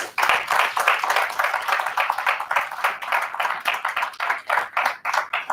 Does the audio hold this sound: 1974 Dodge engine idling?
no